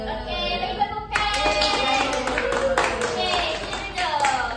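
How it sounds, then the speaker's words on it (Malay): Classroom applause from Year 6 pupils during an Islamic education lesson on manners: a burst of clapping starts after a second and continues densely to the end, with children's voices mixed in beneath. "Okey, bagi tepukan."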